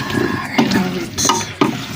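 Matoke plantains, meat and potatoes stirred in a pot, with scraping spoon strokes over a steady sizzle, close and fairly loud, a few sharper clanks among the strokes.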